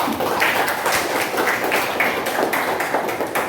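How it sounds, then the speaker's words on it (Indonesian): A classroom of students claps hands in applause, a brisk, dense patter of many hands that stays fairly loud and even throughout with no talking over it. "Ya, beri tepuk tangan"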